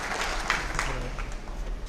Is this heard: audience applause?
yes